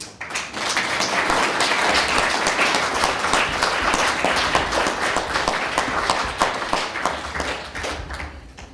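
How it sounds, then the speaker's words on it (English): A large audience at a panel event in an art museum applauds in a sustained, dense wash of clapping that holds steady at full volume before tapering off near the end, with no talking over it. "I would love for another round of applause for you."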